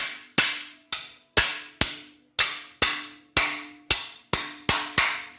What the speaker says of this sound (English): let me run and grab a hammer to knock these studs in